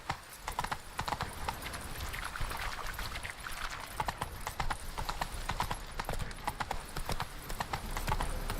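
Geralt's horse Roach from the video game Witcher 3 clip-clops along steadily, hooves striking in a continuous rhythmic stream, close and clear throughout.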